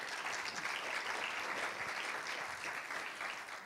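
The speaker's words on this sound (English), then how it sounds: "Your applause, please." An audience at a European youth energy forum claps steadily for a few seconds, a broad wash of applause with no voices over it, fading slightly at the end.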